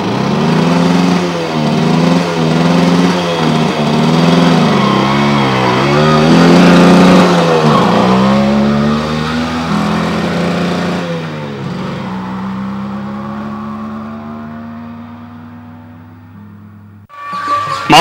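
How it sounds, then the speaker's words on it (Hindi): A motorcycle starts and revs steadily: a loud, close engine drone with repeated rising and falling throttle swells, settling into a steadier idle-like hum and then cutting off near the end. "चल भाई कर मोटरसाइकिल स्टार्ट"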